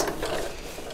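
A sewing machine running a short reverse stitch, a close, continuous mechanical whir and rattle lasting about a second.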